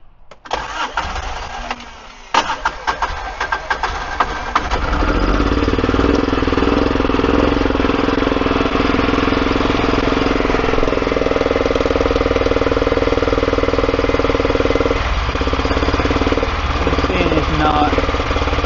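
A Kawasaki Mule 4010 utility vehicle with a cylinder misfire cranks and fires up, then runs loud and close under throttle with a rough, uneven engine note that stutters briefly toward the end.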